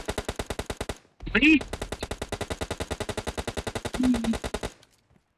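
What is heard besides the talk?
machine gun fire in a mobile shooter video game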